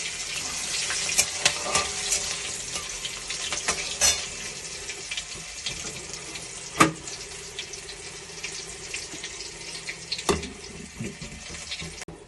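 Torn green chillies and potatoes fry in hot oil with a bright, steady sizzle, punctuated by a few sharp spatula knocks and stirring scrapes.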